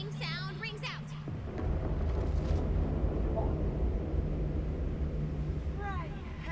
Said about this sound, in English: a great, big, booming sound rings out